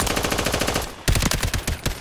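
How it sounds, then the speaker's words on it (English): A submachine gun firing in a fast-paced video game: rapid, loud, close bursts of shots that break off briefly and then resume with another quick rattle. "That's a submachine gun I'm using."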